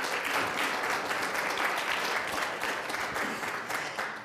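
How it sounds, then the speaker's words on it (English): An audience applauds guests at a Safe Streets coalition gathering, a dense, steady wash of many hands clapping at moderate loudness for about four seconds, with no voices over it. "Let's have a big round of applause for all of our guests."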